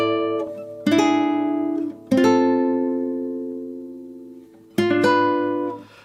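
Single guitar notes and chords from a The Last of Us Part 2 theme ring out slowly, three plucked attacks each left to sustain and fade, clean and close with no talk.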